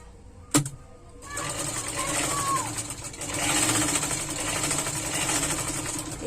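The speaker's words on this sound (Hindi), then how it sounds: "इसी तरह से चिपका कर हम इन सभी को सिलाई कर लेंगे।" A sewing machine stitches two layers of lehenga fabric together for a tassel, running steadily and moderately loud for several seconds after a sharp knock at the start.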